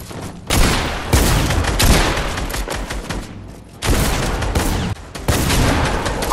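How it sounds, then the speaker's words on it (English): Shotgun blasts in Fortnite, several loud, heavy shots with short gaps between them, up close and with no talking. "I am using a shotgun"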